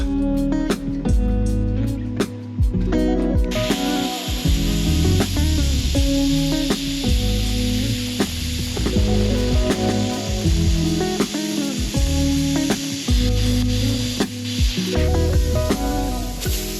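A Hynade plasma cutter slicing through metal gives a steady, loud hissing roar that begins a few seconds in and runs continuously, with tonal background music throughout.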